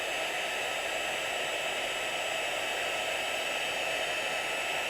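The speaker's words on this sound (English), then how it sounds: "when you're using your heat gun and you're doing your heat emboss techniques" Heat gun blowing during a heat embossing craft technique, a continuous loud whooshing hum of hot air held steady from start to finish with no other sounds.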